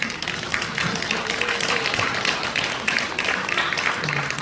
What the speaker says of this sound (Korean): 이상권 목사님 위해서 박수 한번 크게 좀 쳐주세요